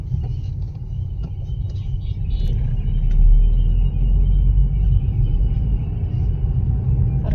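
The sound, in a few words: Bharat Gas cylinder truck passing on the road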